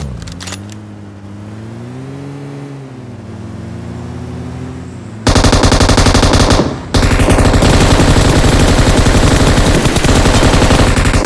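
Automatic gunfire in PUBG Mobile: a loud, continuous burst of rapid shots takes over after a quieter stretch with engine-like hum, pausing briefly before resuming at full intensity.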